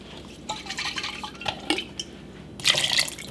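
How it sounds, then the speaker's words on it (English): Water poured into an emptied tomato sauce can and then into a pan, a few short splashy pours and drips with light metallic clinks, close and fairly loud. "I'm going to add a little water to make sure I empty all from the can."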